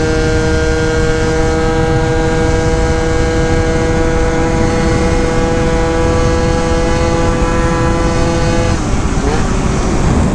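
A 70cc Honda Zuma scooter with a Stage 6 setup and new CVT tuning buzzing at steady high revs on a test ride, a loud constant harmonic drone amid wind noise, dropping slightly near the end.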